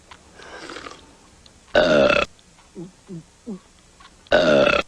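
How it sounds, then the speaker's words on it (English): Loud burps ring out in a burp contest, two long deep belches with a few short grunting burps between them, all fairly close. "We're having a burp contest, Mom."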